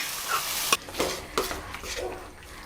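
Pumpkin for Kerala-style kumbilappam is sautéed over high heat in a pan, with a spoon scraping and stirring in distinct strokes over a soft sizzle.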